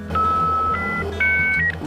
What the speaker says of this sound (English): Racing onto the internet through a dial-up phone modem.